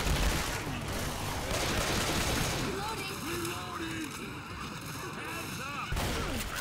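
Gunfire in the video game Left 4 Dead 2, a dense spread of shots and chaotic game noise running throughout, mixed with voices of players talking.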